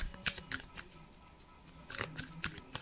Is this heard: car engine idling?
no